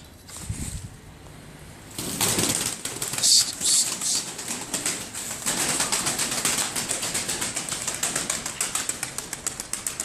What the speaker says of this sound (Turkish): Şöyle ben bir kuşları uçurayım biraz.